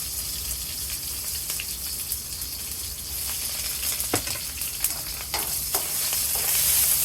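Onions and carrots sizzle in hot oil in a pan for chow mein, a steady bright frying hiss with scattered pops and stirring, growing slightly louder toward the end, with no voices.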